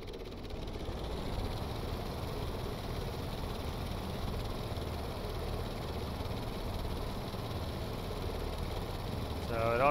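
An engine with its rear exhaust removed runs at a steady idle, a continuous rumbling drone with slight knocking vibration that swells a little louder at the end.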